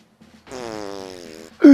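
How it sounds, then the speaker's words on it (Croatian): A long, buzzy fart lasting about a second, close up, followed by a sudden loud burst at the very end. "A prdno je."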